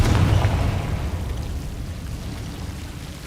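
A Confringo spell explodes in Hogwarts Legacy: a single loud, close burst that booms and then fades into a long rumbling tail, with no voices.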